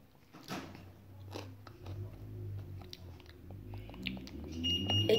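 Close, crunchy chewing of candy tasting like Lucky Charms, with a few sharp bites, steady and fairly quiet, with no talking.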